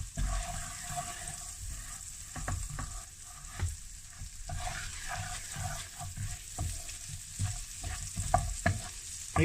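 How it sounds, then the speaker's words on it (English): Fresh chopped garlic, chilies and ginger sizzle steadily in a hot pan for a vegetable stir-fry. Close, irregular scraping and tossing strokes run over the frying, with no talking. "we're going to add the garlic, the chilies, and the ginger, fresh chopped. And just mix those in for a couple of seconds."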